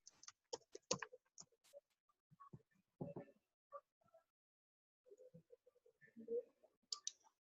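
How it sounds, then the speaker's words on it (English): A computer keyboard is typed on while a search term is entered, producing quiet, close clicking keystrokes in short irregular bursts separated by brief pauses. "actually typing it all the way in here"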